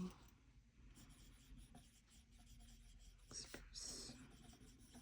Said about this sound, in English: So I'm just going to write that one out.